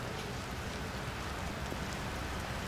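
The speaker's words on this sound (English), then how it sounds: "The rain is coming down in buckets." Heavy rain pours down steadily at the São Paulo Indy 300 street race, a dense, even hiss filling the whole stretch with no breaks.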